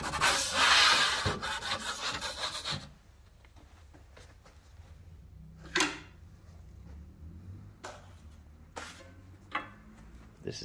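Drywall knife scraping joint compound on a plasterboard butt joint, a loud rough rub at the start followed by a few short, sharp scrapes spaced apart in a quieter room.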